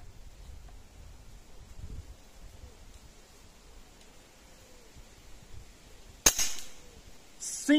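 Quiet outdoor ambience with soft wind and rustling, then a single sharp, loud shot from an Artemis M25 Thunder PCP air rifle firing 5.5 mm pellets near the end, followed by a brief click.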